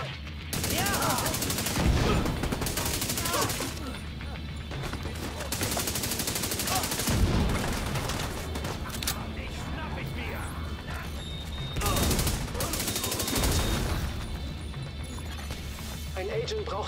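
Gunfire in the shooter video game The Division 2 comes in repeated bursts of rapid, loud shots with mechanical clatter between them, while someone talks over the action.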